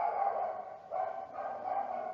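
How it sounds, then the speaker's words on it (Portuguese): Several dogs barking at home, a steady stream of overlapping barks and yips from nearby that continue without pause and with no talking. "desculpa, perdão pelos meus cachorros"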